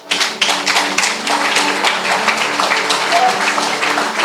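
Church congregation applauding and cheering in praise of the Lord, a dense, steady wash of clapping and voices that continues without pause throughout.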